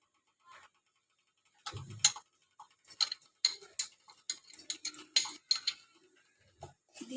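Stirring amla and curry leaves for a hair pack in a pan, a close series of light, irregular metallic taps and scrapes of a utensil against the pan in an otherwise quiet room.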